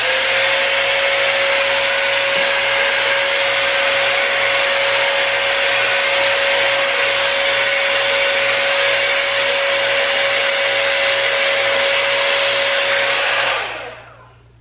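A Dyson Airwrap hair styler runs with a steady, loud, close airflow roar and a constant high motor whine for about thirteen seconds, then winds down as it is switched off.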